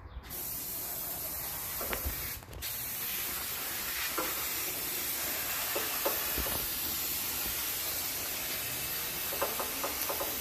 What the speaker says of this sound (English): What are you spraying it with? I am using First Aid non-chlorated brake parts cleaner.